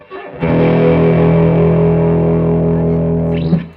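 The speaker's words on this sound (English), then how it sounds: "it doesn't have a ton of gain for being a distortion pedal" An electric guitar played through an overdrive-boost distortion pedal set to modest gain: one loud, sustained chord that rings steadily for about three seconds, with no talking.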